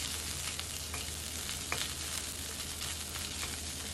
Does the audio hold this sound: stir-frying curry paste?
yes